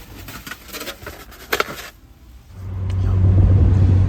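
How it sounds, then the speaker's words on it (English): A car rolling along a local street, light tapping and patter at first, then a steady low engine rumble that swells and holds to the end. "we're back to driving on one of my favorite local streets"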